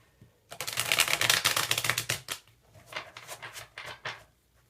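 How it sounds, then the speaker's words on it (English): A deck of cards being riffle-shuffled up close, a dense rapid flutter of snapping cards, then a few shorter looser bursts trailing off. "You might have to listen to me shuffle a little extra right now."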